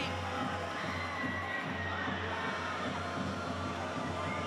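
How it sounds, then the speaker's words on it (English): Dense stadium crowd roaring and cheering after a Brisbane goal in an Adelaide versus Brisbane preliminary final, a sustained loud wash of voices at a distance with no clear talk over it. "and the crowd's on their feet."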